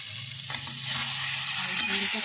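Food frying in a pan with a continuous close sizzle and hiss, punctuated by light stirring and scraping sounds, steady and unbroken.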